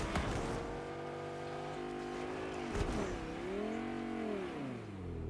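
Car engine in the Fortnite video game revving and accelerating, a continuous droning motor with rising and falling pitch sweeps, moderately loud and steady throughout with no talk.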